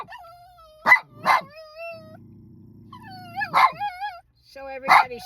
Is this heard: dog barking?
yes